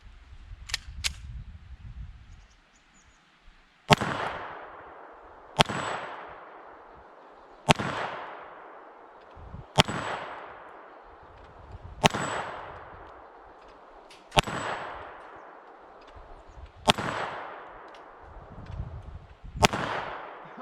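A S&W 380 Shield EZ pistol fires eight spaced shots at a steel spinner target, each a sharp crack with a ringing metallic clang and short decay, evenly paced at about two-second intervals after a few faint handling clicks.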